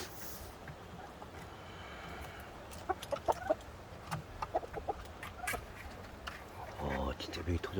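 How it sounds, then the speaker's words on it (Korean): Korean native chickens clucking in a rural mountain yard, a few short scattered clucks over a noisy outdoor background with some rustling and handling sounds. "진짜 여기 토종닭이네"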